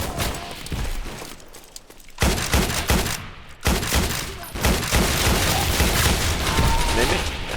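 Bursts of assault rifle fire in a Roblox trench combat game crackle in rapid fusillades, loud and close, with brief lulls between volleys and a player talking over parts of the action.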